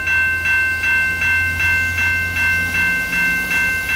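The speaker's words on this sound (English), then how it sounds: "Here we see an eastbound CP train at Yale." An eastbound CP train rolls past at Yale, its wheels beating a steady, loud, regular rhythm over the rails with a sustained high metallic whine above a low rumble.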